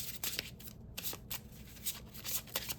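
A deck of oracle cards is shuffled up close, with quick papery riffles and flicks coming in uneven bursts over a quiet background.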